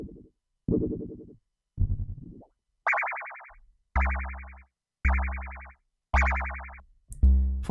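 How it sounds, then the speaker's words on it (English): Ring modulator effect in Koala Sampler applied to a repeated sampled sound, giving eight short, evenly spaced metallic hits that turn harsher and buzzier partway through, each decaying quickly, loud and alone. "You can hear that ring modulator start already"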